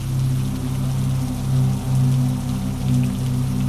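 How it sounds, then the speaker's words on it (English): Steady rain falling at night on a New Orleans street, a continuous even patter with a low rumbling undertone and no voices. "the rain had eased into a fine drizzle"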